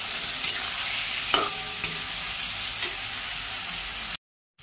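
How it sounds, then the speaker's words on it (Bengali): Spices and chopped tomatoes frying in a pan, a steady broadband sizzle with a few soft stirring knocks, close and even, cutting out abruptly near the end. "মশলাটা ভালো করে কষিয়ে নেব।"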